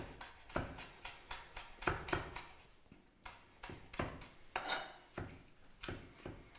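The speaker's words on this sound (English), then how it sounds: "Again, it's just a case of chopping it really, really coarsely." Knife blade coarsely chopping chilli on a cutting board in quick, uneven chops, a steady run of close, sharp knocks with slight pauses between bursts.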